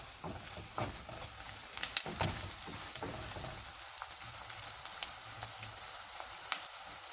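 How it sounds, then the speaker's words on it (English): Onion pieces frying in a pan for a Dindigul Thalapakkatti style veg biryani, a soft steady sizzle with scattered crackles and pops, quiet and close with no voices. "See, the onion pieces got well fried and became crispy"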